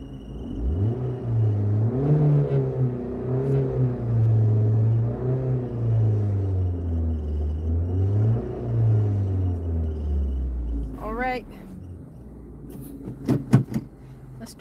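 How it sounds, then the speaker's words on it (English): A car engine revs repeatedly up close, with rumbling surges rising and falling in a loose rhythm for about ten seconds, then drops away before a few sharp clicks and knocks. "I'm going to rev it for the ones that like the revving"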